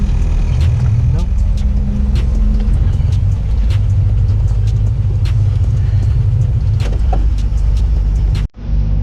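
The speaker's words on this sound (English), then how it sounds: "you want to go for a ride in the pickup truck?" A Toyota pickup truck rolls along with a low, steady engine and road rumble inside the cab, small clicks and rattles scattered over the drone, ending in an abrupt cut.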